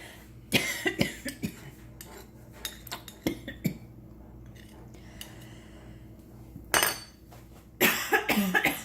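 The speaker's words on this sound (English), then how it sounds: "I'm having a coughing attack" Several sharp coughs in bursts, mixed with light clinks of a spoon against dishes while stirring honey into slippery elm gruel, with quiet background noise between them.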